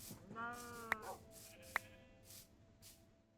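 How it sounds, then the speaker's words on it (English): A sheep in Minecraft bleats in a short, wavering cry near the start, followed by two sharp clicks and a few soft game sounds, fairly quiet overall. "We got one more sheep. There it is."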